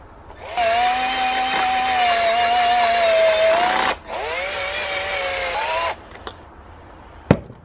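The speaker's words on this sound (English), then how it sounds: "bore out a giant freaking 1 inch hole" Power drill boring a 1 inch hole, likely while fitting an HID headlight kit to a 2016 Dodge Charger; two loud sustained whining runs with a short break between them, then a couple of sharp knocks, no speech.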